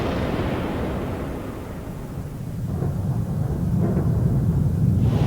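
A deep, rumbling explosion effect representing eruptions on the Sun, a continuous low roar that swells and grows heavier toward the end, with no voices.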